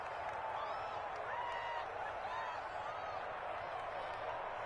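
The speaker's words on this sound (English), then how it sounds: "How about some applause for the defense there?" Football game crowd applauding the defense, a steady wash of clapping and cheering from a large stadium audience, moderately distant, with a voice murmuring faintly underneath.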